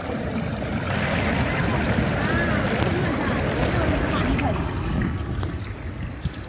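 Ocean waves wash onto a beach in a steady, close roar of surf and rushing water, swelling and receding, with people's voices mixed in under the noise.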